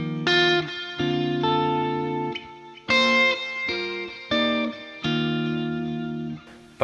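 Electric guitar through a lead drive tone from a Universal Audio pedal plugin plays distorted, sustained chords and notes in short phrases, each attack ringing out with harmonic richness and no talking.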